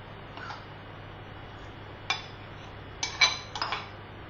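Spoon clinks against a pot as mixed vegetables are ladled in for Maqlooba, a few sharp isolated taps scattered over quiet kitchen background hum, with a cluster of clicks near the end.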